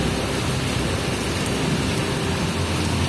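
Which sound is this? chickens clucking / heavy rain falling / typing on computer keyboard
heavy rain falling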